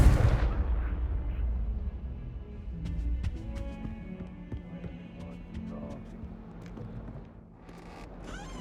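The Confringo explosive spell from Hogwarts Legacy goes off in a loud, booming burst at the start. The blast fades into scattered crackles, pops and rumbling debris, and softer magical effects trail on behind.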